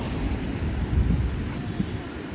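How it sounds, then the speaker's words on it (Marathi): Rushing water of the swollen Godavari River flowing fast past a riverside Hanuman idol in Panchavati, Nashik, a broad steady roar with wind buffeting the microphone. "बघा किती पाणी फास्ट वाहत आहे"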